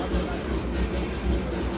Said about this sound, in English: let's go sit over there where we can watch the train go by